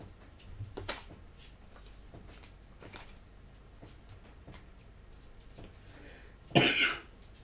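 One sharp, close cough from a person with a bad cold bursts out near the end after a quiet stretch of faint rustles and small clicks.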